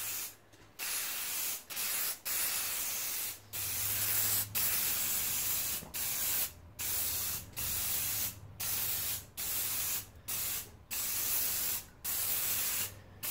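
Waterproofing spray hisses from an aerosol can onto tent seams and fabric in a steady series of bursts, each lasting about a second, with short gaps between them and no talking.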